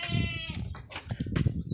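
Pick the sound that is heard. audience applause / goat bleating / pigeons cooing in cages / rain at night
goat bleating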